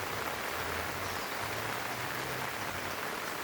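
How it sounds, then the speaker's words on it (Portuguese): Light rain falls steadily on a rural garden plot with flowering watermelon plants, a continuous soft hiss of drops with no gaps, moderately close and even throughout. "Chuvinha caindo de leve"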